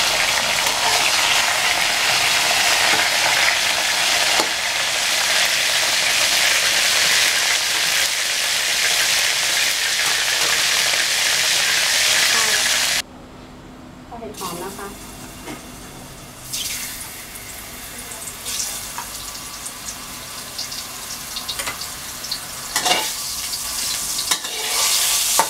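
Cabbage and shiitake mushrooms stir-fry in hot oil, giving a loud, steady sizzle for about half the time, then a sudden drop to quieter bubbling and clatter as water is added, with occasional utensil knocks.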